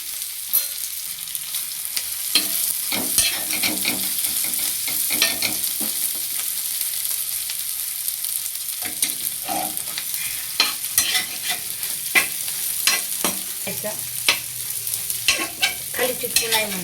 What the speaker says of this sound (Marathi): खाली चिटकू नाही म्हणून त्याला हलवीत राहायचं